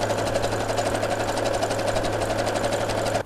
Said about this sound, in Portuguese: Agora a gente vai lá para a máquina, passar uma costura rebatida na volta inteira